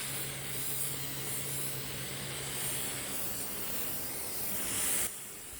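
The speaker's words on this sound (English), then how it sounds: "the spray paint comes out of this can with a lot less volume than the Rust-Oleum did" An aerosol spray paint can hisses steadily while coating a Jeep TJ fender, a close, continuous spray that stops abruptly near the end, with no one talking.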